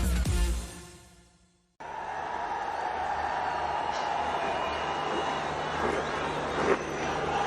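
Crowd at a T20 cricket match in a Lahore stadium, a broad, distant murmur of many voices with a swell of cheering, following a brief burst of other audio at the start.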